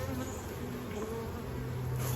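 Honey bees buzzing at an open hive full of sugar syrup or nectar, a steady close drone of many insects holding throughout with no talk.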